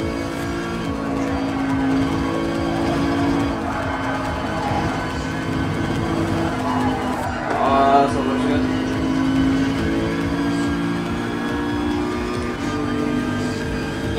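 A Mercedes-Benz SLS AMG Gr.4 race car engine in the GT Sport racing game drones steadily for the whole stretch, revving up and down through corners with a brief tire squeal near the middle, while someone talks over it.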